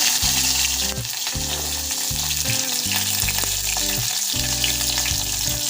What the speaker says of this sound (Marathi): आता यामध्ये शेवग्याच्या शेंगाचे तुकडे यामध्ये घालूया।